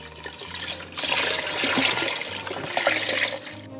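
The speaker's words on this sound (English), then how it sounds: "And I got 3 quarts of veg stock going in." Three quarts of vegetable stock pour into a pot of plant-based New Orleans gumbo, a steady, full rushing splash of liquid that lasts a few seconds and is heard alone, close and fairly loud.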